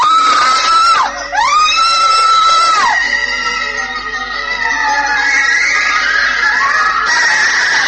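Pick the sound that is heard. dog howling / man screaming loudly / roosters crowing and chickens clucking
man screaming loudly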